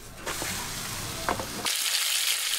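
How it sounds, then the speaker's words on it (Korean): Steady loud sizzling of a Korean seafood green onion pancake frying in a hot pan, crackling continuously with a brighter hiss rising toward the end. "지글지글 전 부치는 소리"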